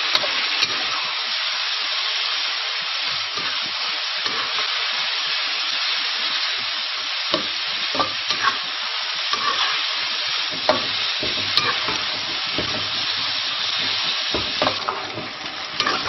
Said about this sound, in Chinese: 油烧到冒青烟的时候就把这个兔肉倒进来